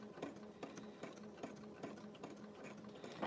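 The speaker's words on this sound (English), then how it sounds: "This sewing machine's pretty good." A sewing machine stitches a rope coaster, its needle thumping in a steady, rapid mechanical rhythm close by, running continuously with no talking.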